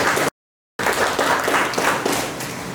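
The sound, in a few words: students clapping for themselves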